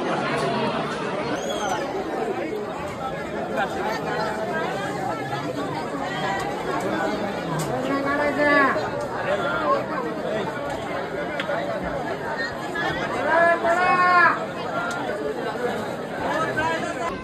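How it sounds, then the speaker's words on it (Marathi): A large crowd chatters at a temple, a dense steady babble of many voices filling the space, with nearer speakers rising now and then above the hubbub. "गर्दी तर लय इकडं."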